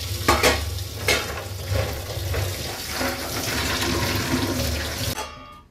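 Food being washed with running water in a vessel before pressure cooking, a steady close splashing and sloshing with a few sharp knocks, ending abruptly.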